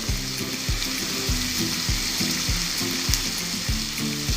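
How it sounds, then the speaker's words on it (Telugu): Prawn curry fries loudly in a pan with a constant sizzle, while low repeated tones pulse underneath at a regular rhythm. "కొంచెం వేగనివ్వాలి."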